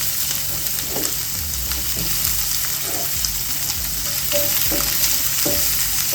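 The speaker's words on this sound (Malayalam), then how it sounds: "ഇതിനകത്തോട്ട് 1 തണ്ട് കറിവേപ്പില ഇട്ട് കൊടുത്ത്, ഇതിലോട്ട് 1 സവാള കൊത്തി അരിഞ്ഞത് അത് വെച്ച് കൊടുക്കും." Chopped onion and a sprig of curry leaves sizzle in a hot pan, a loud, even frying hiss with occasional crackles and pops, close up and unbroken, with no voices.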